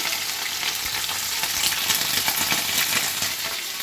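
Fish roe frying beside bubbling liquid in a pan with nigella seed tempering, a dense continuous sizzle with fine crackling heard close up and steady throughout.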